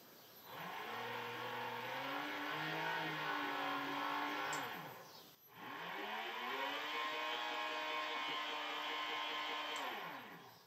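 Electric motor of a converted Honda Beat scooter running in eco mode, two rising-and-falling whirring spin-ups heard up close and alone, steady tonal whine with a short dip between runs.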